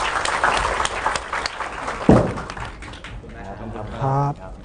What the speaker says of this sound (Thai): ปรบมือให้กับทีม